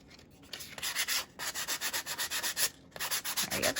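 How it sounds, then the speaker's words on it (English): Sandpaper rubs the edge of a mixed media journal page in quick, rhythmic back-and-forth strokes, close and fairly soft, with two brief pauses and no voices. "you can always take a piece of sandpaper and just sand that down"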